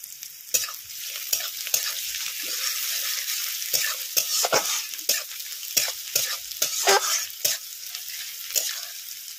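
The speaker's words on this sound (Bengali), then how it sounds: "পেঁয়াজ রসুনটা একটু ভালো করে ভেজে নেব।" Sliced onion, green chili and crushed garlic fry in a pan, with a soft continuous sizzle broken by many quick, sharp scrapes of a spatula stirring them.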